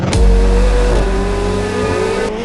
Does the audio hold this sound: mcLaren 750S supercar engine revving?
yes